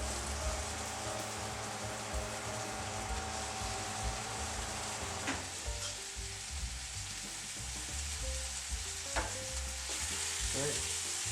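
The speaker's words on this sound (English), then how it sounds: "you can hear that sizzle as soon as they hit the hot oil" Food fries in hot oil in a pan, giving a steady, fairly quiet hiss and crackle that continues for the whole stretch, with occasional small pops and clinks.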